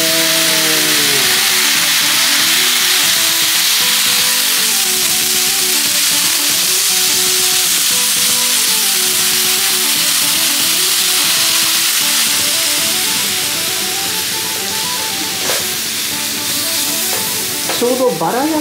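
Loud, steady sizzle of horse meat frying in horse fat on a hot iron griddle, broad hissing crackle sustained throughout, with faint scraping near the end.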